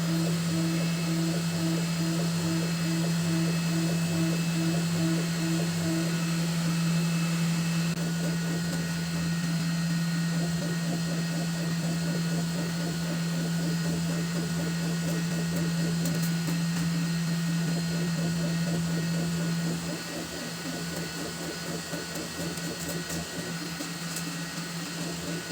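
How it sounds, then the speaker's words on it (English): An Elegoo Neptune 4 3D printer prints at 200 mm/s with a loud, steady whir of fans and a droning motor tone, under a fast rhythmic stepper chatter that shifts as the head moves, then eases a little near the end. "the printer has completed like first few layers, so we're gonna increase the speed to 200 millimeters"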